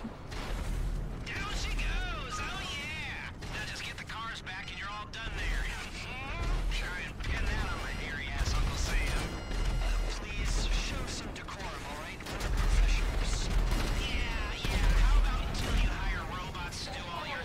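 Rapid bursts of gunfire and booming blasts from GTA V Online, dense and continuous, with a voice talking over the action throughout.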